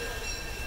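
The Disneyland Railroad C.K. Holliday train pulls into Tomorrowland Station at the Disneyland theme park with a continuous rail rumble and a faint, high wheel squeal running throughout.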